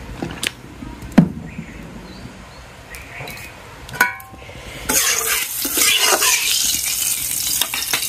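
Oil poured into a hot frying pan in a village kitchen, just after frying potatoes and eggs, bursts into a loud, steady sizzle that starts partway through, following a few scattered clinks and scrapes of utensils.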